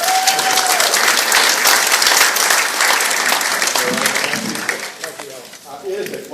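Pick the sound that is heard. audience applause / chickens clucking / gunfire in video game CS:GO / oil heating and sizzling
audience applause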